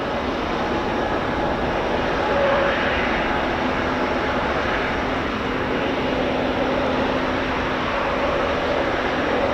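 Propeller aircraft with both forward and horizontal lift propellers, a possible VTOL design, arriving at RAF Fairford for the Royal International Air Tattoo: a loud, steady, broad engine-and-prop drone that fills the whole stretch with no voices.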